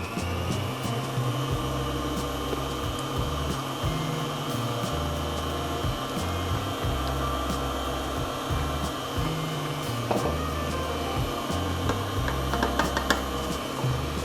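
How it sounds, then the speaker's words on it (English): Electric hand mixer running on medium speed, beating cream into Basque burnt cheesecake batter in a bowl; a steady close motor whir with shifting pitch steps throughout, no talking. "So you're going to put your mixer on medium."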